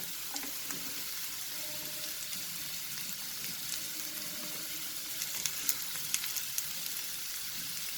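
Cabbage frying in a pan for chicken fried rice, a steady broad sizzle with occasional crackles and light stirring scrapes, close and moderately loud, no voices.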